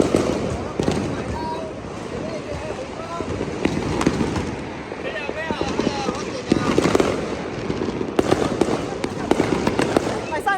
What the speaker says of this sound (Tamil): இங்கே வந்து வெடியும் வெடிக்க போகிறாங்க